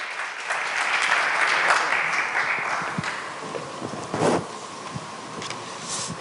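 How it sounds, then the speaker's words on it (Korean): Audience applause welcoming a ballerina at an arts forum, a dense wash of clapping that swells early and then thins into scattered claps and small sounds, heard at moderate distance. "박수로 다시 한번 부탁드리겠습니다."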